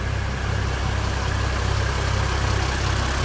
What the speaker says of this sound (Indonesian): Ini mesinnya masih kering, teman-teman, suaranya.